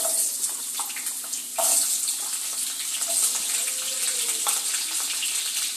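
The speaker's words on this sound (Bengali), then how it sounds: "এবার এই তেলের মধ্যে 3টে আলু কেটে নিয়েছিলাম, ছোট ছোট করে ডুমো ডুমো করে কেটে নিয়েছি। আলুটাকে একটু ভেজে নেব লাল লাল করে।" Three potatoes diced into small cubes fry in hot oil for a Bengali dish, giving a steady, close sizzling hiss with scattered crackles and no talking.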